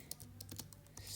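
Keys clatter in a quick, irregular run of clicks as Python code is typed on a computer keyboard, close and fairly quiet against a low steady hum.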